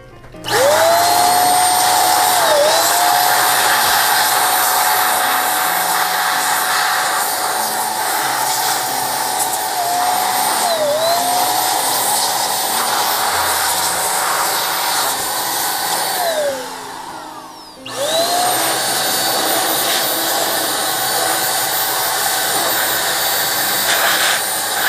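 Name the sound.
electric air duster blowing dust out of MacBook Pro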